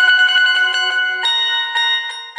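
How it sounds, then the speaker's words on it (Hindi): A bell rings loudly during a devotional storytelling gathering, struck again and again in a quick, steady run of bright, overlapping tones that keep sounding without a break. "घंटी जोरों से टन टन टन टन बजने लगी"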